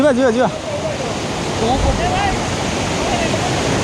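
Chaulibhaja waterfall in Mayurbhanj roars as a steady, dense rush of falling water, loud and continuous throughout, with a brief whistle-like sound at the start.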